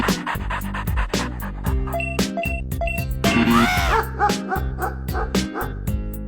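A dog in a mobile game ad yips, whimpers and barks over upbeat game music, with busy scratching and clawing at a suitcase, close and continuous throughout.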